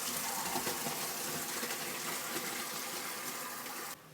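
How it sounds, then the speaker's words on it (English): Cooking water and dumplings poured into a strainer in a kitchen sink, a continuous rushing gush of water for about four seconds that cuts off abruptly near the end, close and fairly loud with no talk. "we're gonna strain this in the sink. We're gonna dump this in there"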